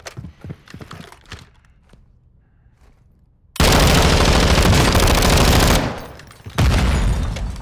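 Sustained heavy automatic gunfire in Call of Duty DMZ, loud and dense for about two seconds, briefly easing and then bursting again, preceded by sparse quieter shots and clicks.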